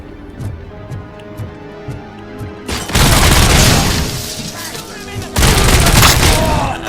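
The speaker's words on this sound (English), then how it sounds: "why would you throw explosives in here?" Thrown explosives burst indoors in Robocop Rogue City. Two loud, sustained blasts with a roaring crackle follow quiet ticking and clicks, the second blast arriving a few seconds after the first fades.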